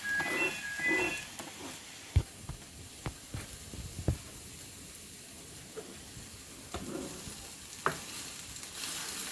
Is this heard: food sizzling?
yes